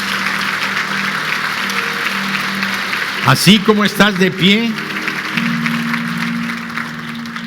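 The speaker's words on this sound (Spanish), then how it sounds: "Dale un aplauso al Señor" A church congregation applauds the Lord under a sustained organ or keyboard chord, clapping steady in the background while a pastor speaks over it in the middle.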